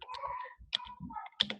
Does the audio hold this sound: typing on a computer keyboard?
yes